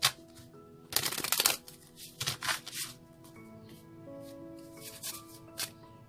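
Tarot cards being shuffled by hand, a dense riffling burst followed by several lighter flicks and taps, close and fairly quiet, with a faint voice in the background.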